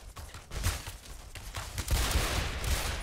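Firework cannon fires in the video game Fallout: The Frontier, giving a quick run of crackling, popping bursts at moderate distance, layered over a noisy background.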